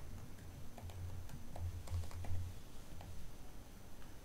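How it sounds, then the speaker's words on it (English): Password being typed on a computer keyboard, a quiet run of soft, irregular key clicks over a low steady hum, with no talking. "And then I type my password."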